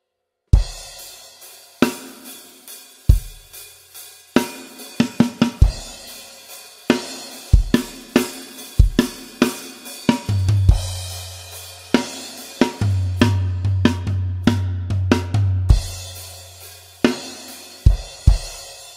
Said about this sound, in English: the last part we look at is the outro four bar section